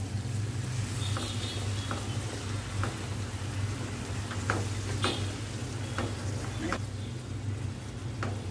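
Spice paste frying in oil keeps up a steady sizzle as water rinsed from a mixer jar goes in, with scattered clicks and scrapes of stirring, and a voice speaking faintly underneath.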